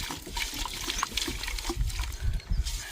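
Shampoo water trickles and pours into a neem oil solution in a container, an uneven close dribbling splash with small bursts and gurgles, no talking.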